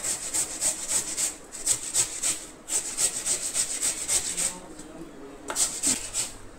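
A cucumber is grated by hand in quick rhythmic rasping strokes, close and crisp, with a short pause partway through before the scraping resumes.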